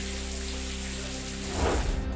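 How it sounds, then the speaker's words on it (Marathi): Heavy rain pours steadily in Karmala, Solapur, a broad continuous wash that swells louder near the end, with no talk. "एका दिवसाच्या विश्रांतीनंतर मुसळधार पावसाला सुरुवात"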